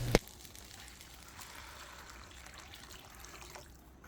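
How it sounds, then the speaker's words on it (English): Four cups of hot water pour steadily into a pot, a soft continuous trickle and splash that holds at an even level for several seconds. "Then add 4 cups of hot water."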